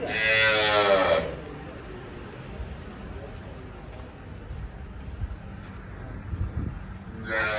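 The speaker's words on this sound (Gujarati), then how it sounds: "તમે અહીંયા ગાય જોઈ શકો છો" A cow moos loudly at the start, then background murmur of people talking nearby, and a second moo begins right at the end, in an outdoor village setting.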